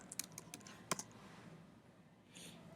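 Short bursts of computer keyboard typing, a few quick clicks near the start and a sharper cluster about a second in, then quiet; faint, close and alone.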